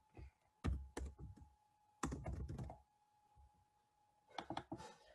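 Computer keyboard typing during programming, three close bursts of rapid key clatter separated by pauses, with no talking.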